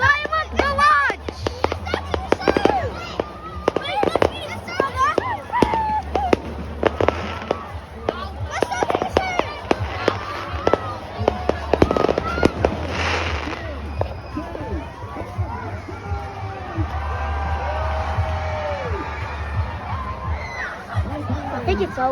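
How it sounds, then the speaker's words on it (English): Bonfire night fireworks barrage: rapid crackling bangs and pops in dense bursts over the first half, then a rumbling hiss as it dies down, with excited voices and crowd chatter throughout. "Firework barrage!"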